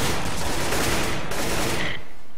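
Gunfire in a Counter-Strike match, a dense, loud burst of overlapping shots and rapid fire filling the moment before cutting off abruptly.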